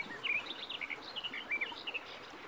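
Birds in a forest tree in an animated story chirp and tweet in quick repeated bursts, light and moderately near, with no talk.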